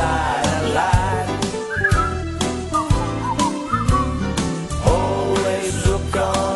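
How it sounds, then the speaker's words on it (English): A person whistles a bright melody over a full band playing a song, with the whistled line riding above loud, steady accompaniment. "Just pierce your lips and whistle, that's the thing."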